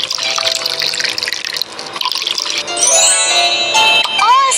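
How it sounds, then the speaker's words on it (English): Water pouring into a tray in a food maker video game, a bright splashing, trickling stream that runs continuously and grows louder, ending with a rising bubbly tone, no voices. "Add water in tray."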